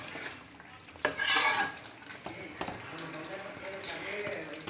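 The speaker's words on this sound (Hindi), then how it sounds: "चलिए जी मिक्स कर देते हैं।" A spoon stirs aloo baingan, a potato and eggplant curry, in a pot after fresh coriander goes in, scraping and clinking against the metal in short bursts close to the microphone, with soft kitchen sounds between the strokes.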